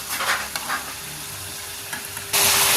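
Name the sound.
deep-frying pakon pitha cakes in oil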